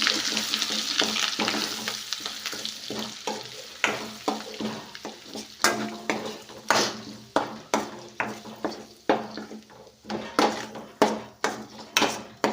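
Bottle gourd chutney being stirred into hot oil tempering in a pan, a run of clear scraping, knocking strokes of the spoon against the metal over a soft sizzle, steady and close with no talking.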